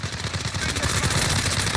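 Rapid automatic gunfire from the video game Warzone on Rebirth Island, a steady stream of shots at moderate distance filling the short stretch without talk.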